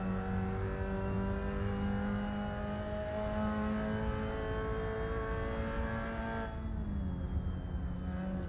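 Mazda MX-5 race cars lap the short Knockhill circuit in a sim racing game, a steady, fairly faint engine drone with gently rising and falling pitch as they pass through corners and accelerate.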